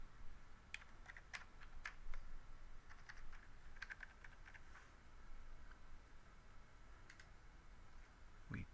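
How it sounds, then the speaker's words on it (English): Quiet, steady typing on a computer keyboard: bursts of light key clicks in an irregular rhythm, close and alone, with no voices. "we type in our input that we know our data comes from"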